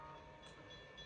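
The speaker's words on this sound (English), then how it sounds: "go to the train, which is the Beta Island Railroad." Train on the Island Railroad ride in Planet Coaster, a steady rolling rumble with faint high tonal whine, moderately quiet and continuous.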